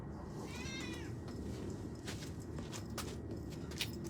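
A cat gives a short, faint meow outdoors in a garden at dusk, heard once early on over a steady background hum and scattered rustling footstep-like sounds.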